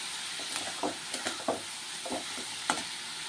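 Vegetables and cooked rice are stirred together in a hot pan for homestyle fried rice. Light sizzling runs under scattered, close scraping stir strokes, with no voices.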